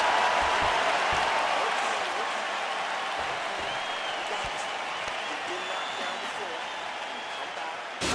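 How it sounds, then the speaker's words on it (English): Arena crowd applauding in the UFC 4 fighting game on PS5 after a heavyweight round, a steady wash of clapping and cheering at moderate level that fades slightly, with a few faint tones over it. "So the crowd voicing its appreciation after that round"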